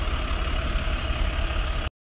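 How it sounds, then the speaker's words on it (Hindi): A tractor engine rumbles at a steady low idle, loud and close, then cuts off abruptly into silence as it is stopped, used as a sound effect in an animated story. "उन्होंने अशोक की जैन ट्रैक्टर को रोककर कहा,"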